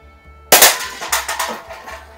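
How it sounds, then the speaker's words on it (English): A pellet air gun fires one sharp, loud crack nearby after a quiet moment, followed by a short clattering, rattling tail. "Now your pellet's in line with the barrel and ready to shoot."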